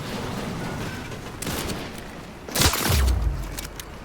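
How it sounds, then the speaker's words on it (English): A sniper rifle shot in a battle royale scrim cracks with a sharp, close report and a booming tail, preceded by fainter distant pops amid game ambience. "I get sniped from the back"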